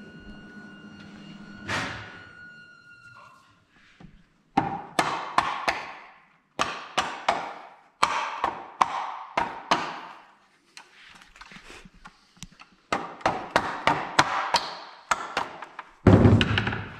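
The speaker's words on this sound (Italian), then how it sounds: "passami il martello" A hammer knocks repeatedly on wood while a split bamboo fishing rod is being built, sharp close thuds in rapid uneven bursts separated by short pauses, with no talk.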